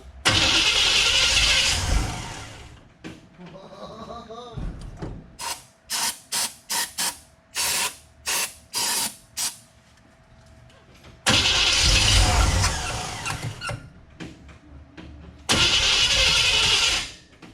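A 1966 Chevrolet C10 small-block V8 with a dry fuel pump cranks repeatedly without catching: long loud bursts of starter grinding, a run of short rhythmic cranking pulses in the middle, then two more long cranks, all close up.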